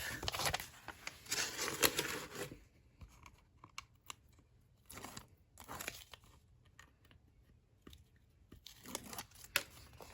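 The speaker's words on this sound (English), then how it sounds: "So I'm going to go ahead and peel back the tape." Adhesive tape is peeled back from paper on a scrapbooking accordion mini album, giving soft close tearing and crackling rasps in several short stretches between quiet pauses.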